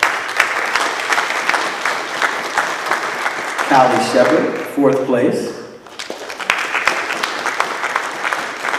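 A school board awards audience breaks into a short burst of clapping after a student's name and place are announced, with a speaker's voice before and after the applause.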